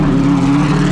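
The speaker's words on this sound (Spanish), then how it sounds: "con el sonido de los motores" Rally car engines at the Subida al Fito hill climb hold a steady, loud, close drone with a strong low hum for about a second, with no voices over it.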